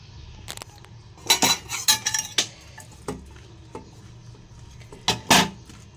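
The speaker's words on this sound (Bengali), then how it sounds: "এবার আমি সব কিছু মিক্সড করে নেব চলো এটা এবারে মিক্সড করে নিই" A spoon clinks and scrapes against a bowl while spiced leftover rice is mixed, in irregular bursts of close metallic taps separated by quieter pauses.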